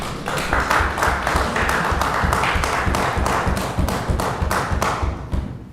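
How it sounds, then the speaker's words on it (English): Members of the House of Assembly give a round of applause as a rapid, steady drumming of thumps and claps, loud and even, tapering off at the end. "That deserved that round of applause, Madam Speaker."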